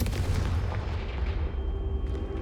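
A Confringo fire-blast spell from Hogwarts Legacy bursts with a low, thudding boom and rumbling crackle that lingers briefly, moderately loud and close, with no voices.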